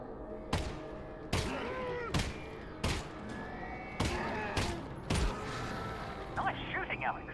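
Gunshots in the video game Half-Life: Alyx, seven sharp, separate cracks spaced about a second apart, ring out over ongoing speech and background game sound.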